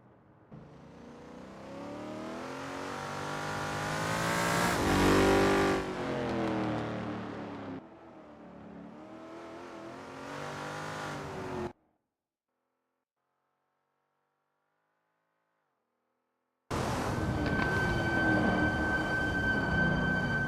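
A Lola T70 MkII Spyder race car engine in a racing video game at Kyalami '67 revs loud and close through the bends. It cuts out to near silence for several seconds, then returns at full volume.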